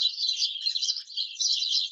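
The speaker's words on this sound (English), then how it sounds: "To me, the singing of birds is like a thunder of joy, celebration." Birdsong close by, a continuous run of high, rapid chirps and trills with no pauses, heard alone without other sounds.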